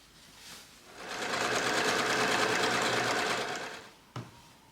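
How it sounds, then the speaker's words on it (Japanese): Sewing machine stitching a French seam on clothing being remade, a fast even mechanical rattle that starts up, runs for about three seconds and stops, followed by a short click. "また下を袋縫いで縫おう。"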